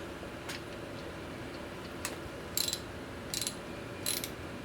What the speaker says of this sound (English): Just need to tighten down the bolts to hold those in